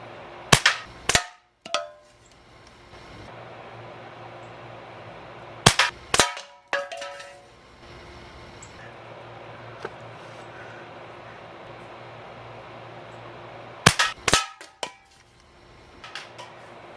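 A restored 67-year-old Benjamin 312 .22 air rifle fires in clusters of sharp, loud cracks, each followed by brief metallic ringing, with long quiet gaps between the groups.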